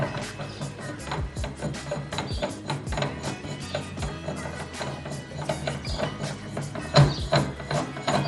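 Threaded coilover piece being screwed in by hand on a lowered Honda EM1 Civic, a steady run of close ratcheting, grinding clicks in an irregular rhythm, fairly quiet, with no talk.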